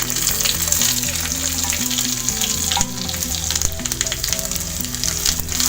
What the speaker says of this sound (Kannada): ಈಗ ಒಗ್ಗರಣೆಗೆ ಸಾಸಿವೆ, ಜೀರಿಗೆ ಹಾಕ್ತೇನೆ.